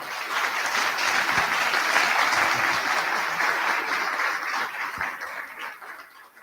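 An auditorium audience applauds at an academic event, producing a full, continuous wash of clapping that holds steady for several seconds and then slowly thins out.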